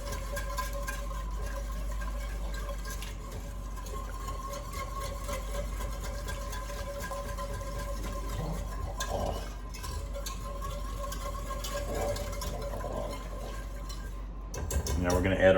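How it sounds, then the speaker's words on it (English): Whisk scraping and stirring pan drippings for a chicken spaghetti sauce, a steady soft metallic swishing that continues throughout, with a louder clatter near the end. "Using a whisk, make sure you get those drippings on the side."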